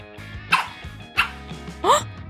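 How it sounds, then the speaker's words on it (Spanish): A dog barks three times in sharp, evenly spaced yaps over a steady low hum, the last bark rising into a higher whine-like tone. "¡Te he dicho que no ladres!"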